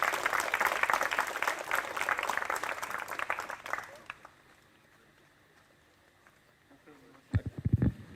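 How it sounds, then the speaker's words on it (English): At a YOTA summer camp train-the-trainer session in Karlovac, Croatia, an audience claps for the Lithuanian team, a dense burst that fades out after about four seconds, followed by quiet and then a few louder knocks and handling sounds. "Please give applause to the Lithuanian team."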